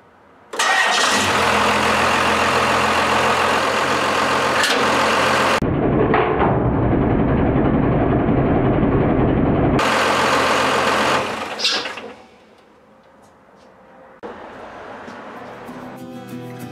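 A first-generation Cummins diesel engine cranks, starts and runs loud and close with a steady roar and a strong low rumble, then drops to a quieter idle before revving again.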